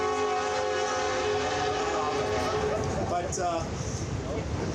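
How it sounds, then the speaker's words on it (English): A train passes through Lemont, Illinois, with a sustained, tonal horn-like roar and rumbling wheels, loud and steady throughout, while a person talks faintly underneath. "I'll wait for the train to pass"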